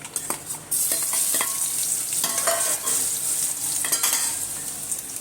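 Potatoes dropped into a hot pan for poha, a burst of clatter followed by a loud, steady sizzle of frying with intermittent stirring scrapes, close and alone without speech.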